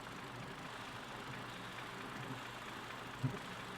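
Engine running on milk with worn crankshaft bearings, a faint steady idling rumble with a single small knock near the end.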